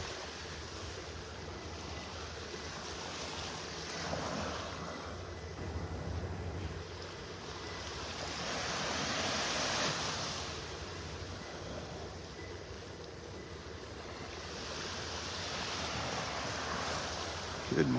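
Ocean waves roll onto Vanderbilt Beach in North Naples, Florida, with steady wind buffeting the microphone; the surf swells and recedes in soft, distant washes, with no one speaking.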